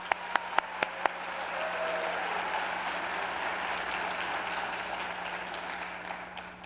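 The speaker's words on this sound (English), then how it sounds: "Let's give them a round of applause." A ceremony audience at the RIT President's Address breaks into sustained applause, a dense wash of many hands clapping after a few sharp nearby claps at the start, continuing evenly throughout.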